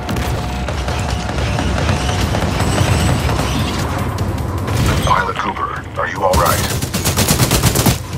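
Rapid bursts of Titanfall 2 gunfire crack and boom during a boss fight over a busy background, with a voice talking over the shots.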